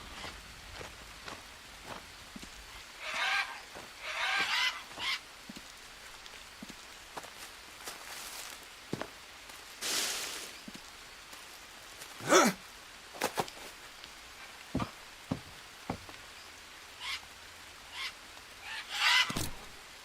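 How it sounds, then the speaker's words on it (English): A bird darts past in the jungle survival game Green Hell, giving scattered honking calls and brief rustling bursts over a soft, rain-like ambient hiss. "That bird made me jump. Flying right underneath my hand like that."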